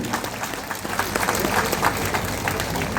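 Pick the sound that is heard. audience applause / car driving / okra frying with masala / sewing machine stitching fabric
audience applause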